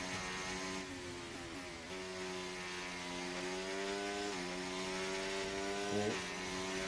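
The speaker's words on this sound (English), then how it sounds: "I do like the sound of this Mercedes engine." Mercedes Formula 1 car engine in the F1 24 racing game, a high, buzzing whine that climbs in pitch through the gears with brief drops at each upshift, steady and close with no talking.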